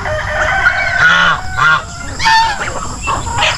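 Native chickens roaming free on a farm in the Philippines, a dense, loud chorus of clucking and squawking calls overlapping continuously at close range.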